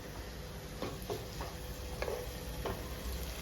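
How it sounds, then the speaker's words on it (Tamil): Prawn thokku masala being sautéed in a pan, with a spoon scraping and stirring in several distinct strokes over a soft, steady sizzle, close and fairly quiet with no talking. "ஒன்றோட ஒன்று நல்லா இதை வதக்கி விட்டுட்டே இருக்கணும்"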